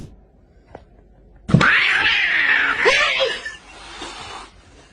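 A cat lets out a loud, drawn-out yowl close by. The wavering caterwaul lasts a couple of seconds and then trails off into a fainter cry.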